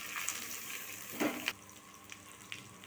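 Grated carrot going into a hot tempering of chillies and curry leaves for mango carrot pulihora, giving a soft, steady sizzle with a brief louder splash of frying partway through, then a quieter hiss.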